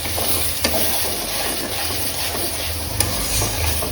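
Meat cooking in a pot on a home stove sizzles and fries steadily, a dense continuous hiss with faint stirring knocks, close and even throughout with no talk.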